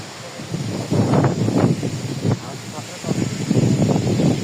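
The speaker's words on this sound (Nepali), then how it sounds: "आज के हो मात्रै हावा चलेको छ त।" Wind gusts in uneven bursts across a microphone outdoors at a martyrs' memorial park, rustling and buffeting at moderate loudness, with a voice talking over it.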